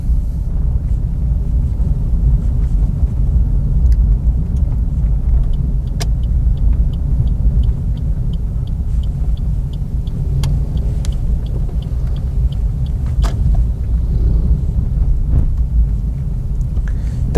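A manual car driving slowly on a road while turning, with a steady close low engine and road rumble inside the cabin and occasional faint clicks, as gears shift down from third to second on a rough stretch.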